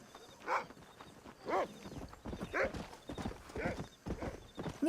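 Horse hooves clip-clop in a steady walking rhythm with several whinnies and snorts from a horse in the video game Red Dead Redemption, close and fairly loud throughout.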